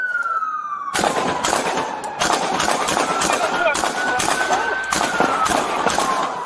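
Gunfire during a police ambush on a Minneapolis street: several sharp, loud bursts crack over a wailing police siren, with voices talking in between.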